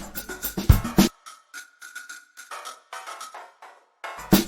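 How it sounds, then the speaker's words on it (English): A short rhythmic pattern of granular mallet tones, built in Logic Alchemy's granular mode from an Apple loop, plays as bright, clipped hits with brief gaps, set between a couple of louder, fuller strikes at the start and end. "Here I've created a second alchemy instrument based on an Apple loop, this time a mallet sound, and using the granular mode,"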